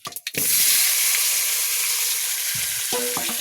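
Vegetables hit hot spice paste in a pot, bursting into a loud, steady sizzle after a few opening knocks, with clanking stirs near the end.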